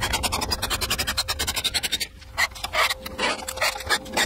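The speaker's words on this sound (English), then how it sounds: "I'm about ready to start drilling the index holes" A drill bores index holes into a wooden Rockler XL cribbage board, giving close, rhythmic scraping and rasping bursts in quick succession with a short pause midway.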